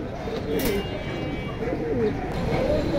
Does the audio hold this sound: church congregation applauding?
no